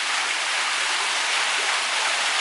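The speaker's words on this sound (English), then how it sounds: "A nice pond with waterfalls." Waterfalls in a garden fish pond give a continuous, steady splashing hiss of falling water, close and evenly loud throughout with no voices.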